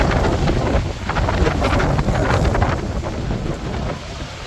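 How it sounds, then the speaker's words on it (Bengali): Strong wind gusting outdoors on a stormy, rainy day in London, a loud steady roar buffeting the microphone throughout. "প্রচুর বাতাস হইতেছে।"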